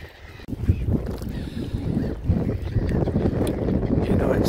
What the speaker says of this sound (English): Listen to the lapping of the water.